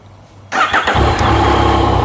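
After a short crank, a 2019 Yamaha XSR900 motorcycle engine with stock exhaust catches and settles into a loud, steady idle close by.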